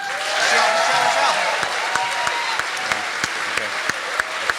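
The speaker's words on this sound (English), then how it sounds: "give her a big round of applause" An audience at a Moth Grand SLAM storytelling event in Detroit applauds a storyteller, steady clapping that gradually thins to a few scattered, distinct claps toward the end.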